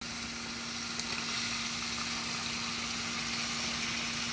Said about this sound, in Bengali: বটগুলো দিয়ে দেবো, বট দিয়ে নাড়াচাড়া করবো।